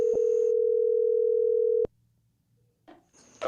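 A steady, loud telephone tone sounds while a call is placed to a talk show guest, cut off abruptly by a sharp click, then quiet line noise and faint rustling.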